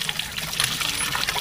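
Water trickles and splashes steadily up close while fish is washed for a tamarind fish stew.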